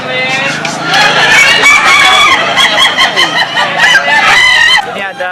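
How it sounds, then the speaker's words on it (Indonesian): Ayam ketawa, Indonesian laughing chickens, crow loudly and continuously at a monthly contest, with long rippling, cackling calls overlapping one another from several birds close by. "Kontes Ayam Ketawa merupakan upaya pelestarian satwa asli Indonesia."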